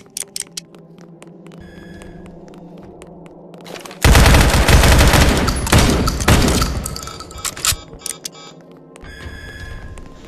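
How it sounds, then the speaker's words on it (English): A laser cannon in a Roblox facility lockdown game fires in a loud, dense burst of crackling blasts for a couple of seconds, surrounded by quieter clicks and electronic effects. "Laser cannon."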